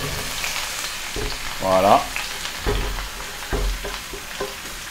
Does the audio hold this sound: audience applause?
no